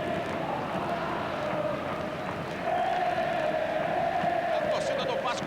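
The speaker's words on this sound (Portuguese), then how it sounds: "A torcida do Vasco fazendo festa" Vasco supporters fill a football stadium during a 1988 Carioca match against Flamengo, a broad crowd roar that swells into sustained chanting and singing, heard from a distance under a commentator's voice.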